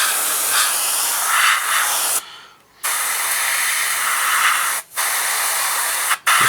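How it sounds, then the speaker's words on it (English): Airbrush hissing paint onto a 1/32 scale RE.8 model aircraft, close and steady in long bursts broken by two brief pauses and a quick stop near the end. "And just spray up the middle."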